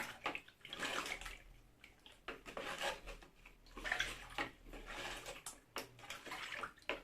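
Brine of water and salt poured over cabbage packed in a container for Bulgarian-style sauerkraut, a soft, uneven splashing and gurgling stream that swells and eases, fairly faint with no talk.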